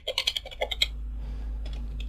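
Keystrokes on a computer keyboard as a Linux install command is typed, a quick burst of about a dozen close, crisp clicks followed by a pause with a few softer taps near the end.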